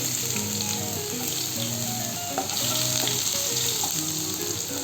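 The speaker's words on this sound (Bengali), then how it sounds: "কালো জিরা আমার ভাজা হয়ে গেছে। এখন আমি একে একে সবগুলো এই ফোড়নে দিয়ে দেব। প্রথমে দিয়ে দিলাম আদা কুচি," Chopped ginger frying in a black cumin tempering in hot oil gives a close, continuous crackling sizzle with faint stirring, no voices over it.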